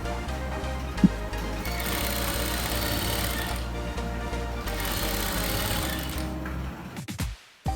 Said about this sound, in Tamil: ஃப்ரண்ட் நெக் வந்து ஸ்டிச் பண்ண போறோம்